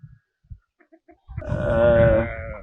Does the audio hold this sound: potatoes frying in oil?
no